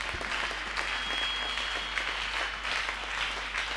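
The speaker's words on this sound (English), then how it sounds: "Church, clap your hands for Jesus." A church congregation claps together in steady, dense applause that fills the whole stretch, loud and continuous with a few sharper individual claps standing out.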